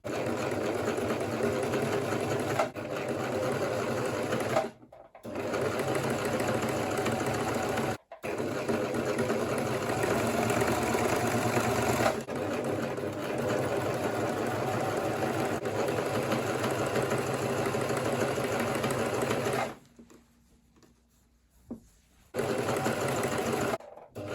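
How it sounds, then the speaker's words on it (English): A sewing machine stitches bias tape onto a garment neckline, a loud steady motor whir running in long stretches, broken by brief stops and a longer pause before stitching resumes. "you must make sure you sew along the straight line that is on the bias"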